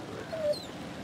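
A faint dog-like whimper from the horror video game The Dark Pictures: The Devil in Me, one short thin whine rising briefly over a low quiet ambient hum.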